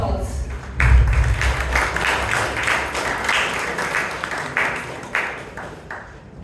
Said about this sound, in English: Let's give each one of them a huge round of applause.